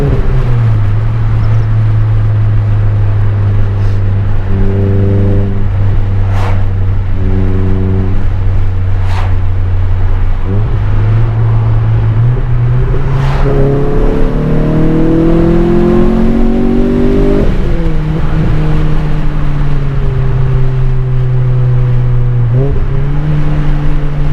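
A Renault Clio RS 200 fitted with a K-Tec induction kit drones loudly under load, its revs climbing and falling through gear changes, with occasional sharp pops from the exhaust on lift-off.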